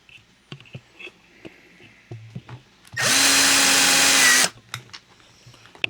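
A power drill whirs in one steady burst of about a second and a half, driving screws back into a Traxxas Mini Slash RC truck, with light clicks and handling noises before and after.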